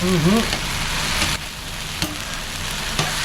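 Steady sizzling of chicken and beef fajita meat frying in a hot pan, a dense crackling hiss close by, with a few faint clicks and brief tonal sounds at the start.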